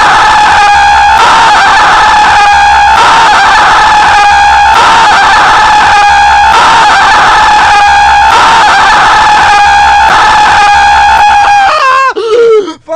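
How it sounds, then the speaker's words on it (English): A person screams loudly and continuously for about thirteen seconds in one long, strained, high-pitched yell with brief breath breaks, ending in a ragged, faltering cry. "this audio file was called I'm Going to Scream for at least 13 seconds"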